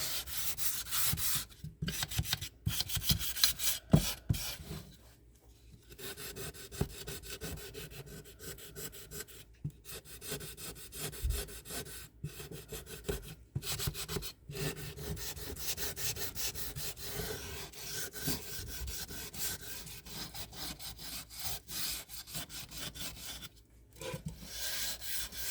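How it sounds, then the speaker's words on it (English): A thrift-find craft piece is sanded by hand before painting, with steady close rubbing strokes that run on and off through the clip, broken by a few brief pauses, and no talking. "And so when I sand it, I know it's going to be fine."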